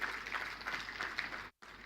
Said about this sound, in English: Please, let's give him a round of applause again.